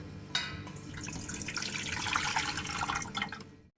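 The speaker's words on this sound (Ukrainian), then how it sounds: "Зливаємо воду у кастрюлю" Water from jars of pickled bell peppers being poured into a pot, a steady splashing trickle that runs continuously for a few seconds, close and fairly quiet, then stops abruptly.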